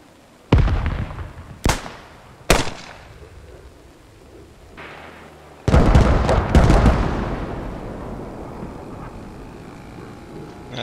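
An artillery barrage falls in the military video game Squad. Three sharp, separate blasts are followed by a heavier burst of explosions that rolls into a long, fading rumble, with no talking.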